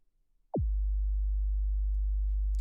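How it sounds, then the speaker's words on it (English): A steady 50 Hz sine test tone at minus 20 dBFS starts abruptly after a brief near-silent lead-in, then holds constant and unbroken to the end, with no voices. "So this is a 50 hertz sine wave at minus 20 dBFS."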